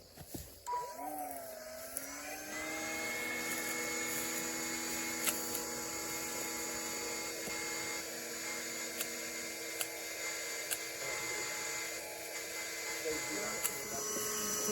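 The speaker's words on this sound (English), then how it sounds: "So we're about to vacuum up the foragers and see how that goes." Battery-powered vacuums sucking up bald-faced hornet foragers outdoors, heard as a loud, steady motor whine that spins up at the start and then holds, with occasional sharp ticks as hornets are drawn in.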